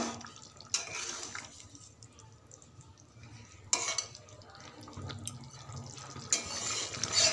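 Fish curry being stirred in a pot on the stove: wet scraping spoon strokes come in bursts against a soft background simmer, close and moderately loud, with no talking.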